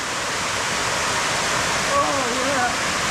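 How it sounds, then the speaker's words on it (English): Waterfall pouring into a pool on Sour Milk Ghyll in the Lake District, near Easedale Tarn: a steady, close, full rushing roar throughout, with faint voice-like tones rising briefly near the end. "It's at this waterfall."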